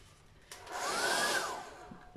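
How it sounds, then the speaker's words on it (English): A strong hairdryer switches on and blows in a close, loud rushing whoosh with a whining tone that rises and then eases off over about two seconds, and no voices over it. "Is the hairdryer going to cooperate?"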